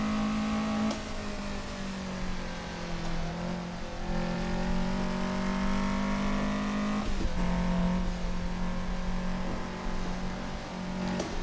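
A Toyota AE86 at full throttle in a racing video game, a loud sustained engine drone with steady pitch that dips briefly around shifts and then climbs again, running without pause.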